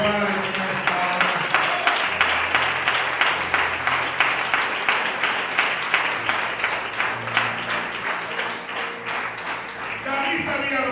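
Congregation applauding in a church during a sermon, a steady, dense wash of many hands clapping that fills the room at an even, sustained level, with some voices mixed in.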